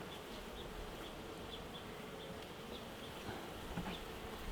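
Honey bees swarm and buzz steadily around an opened hive during frame inspection in an apiary, a dense continuous hum close by with no talking.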